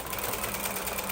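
A sewing machine runs steadily while stitching a quilt top, its needle making a fast, even mechanical whir close by, with no voices.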